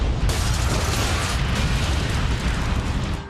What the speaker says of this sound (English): Suddenly, a massive explosion rocks the plant.